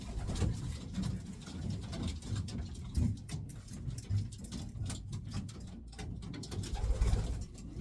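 Soft, repeated racing pigeon cooing close by, low and throaty, set against a steady background hum.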